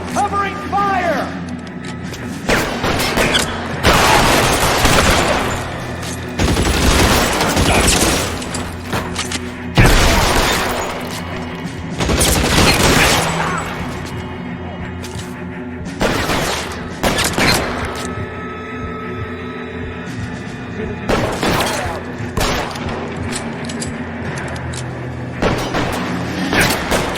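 Repeated bursts of covering gunfire and heavy booms in the 1940s crime video game L.A. Noire, loud and sustained across the whole stretch with mechanical clatter, shouted voices and music mixed in.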